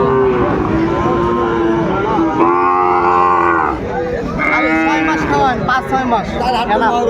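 Cattle, including Sahiwal breed bull calves, lowing at a livestock market in Dinajpur, long loud moos rising and falling over a busy crowd murmur with people talking nearby.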